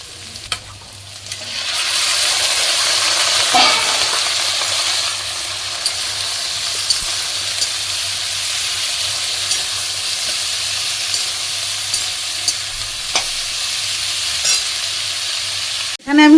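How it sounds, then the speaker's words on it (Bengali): Capsicum frying in a pan, with a loud, steady sizzle and hiss that lasts throughout and faint scrapes of stirring, close by and with no talk. "এবার ক্যাপসিকামটা দিয়ে দেবো এর মধ্যে"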